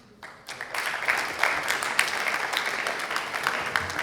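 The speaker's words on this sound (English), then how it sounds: "Give them a round of applause." Audience applause for speakers at a book project presentation, starting quietly and swelling into steady, dense clapping from a moderately close crowd with no talk over it.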